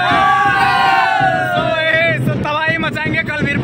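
Dense crowd at a Muharram Tajiya procession in Ethalbari: loud, continuous hubbub of many voices with shouts, whoops and chanting close by, dominated by overlapping talk and cries throughout.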